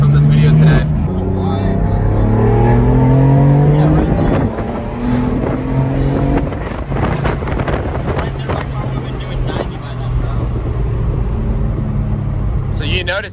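A BMW M4 Heritage Edition accelerates hard through the gears, its engine note rising in pitch, dropping at each shift and climbing again. Heavy wind buffets the car throughout, and voices talk over it.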